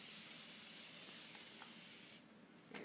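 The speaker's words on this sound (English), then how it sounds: "it gives it a nice pressurized spray mist" A continuous, fine hiss of pressurized water mist from a spray bottle runs for a few seconds before easing off, close and fairly quiet.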